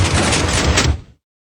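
A Minecraft redstone 3 by 3 door closes with a loud, dense burst of mechanical noise lasting about a second, which fades quickly into silence.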